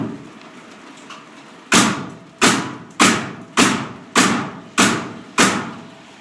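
Seven sharp, loud pneumatic bangs from a Paslode or Max framing nailer test-firing nails on a compressor set to 120–130 psi, spaced evenly about two-thirds of a second apart, each cracking and then decaying over a low background hiss.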